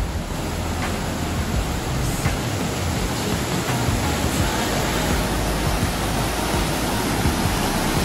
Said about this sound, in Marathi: या पायऱ्यावरून पाणी जे वाहतं ना, ते वाहतं पाणी आणि निसरड्या जागा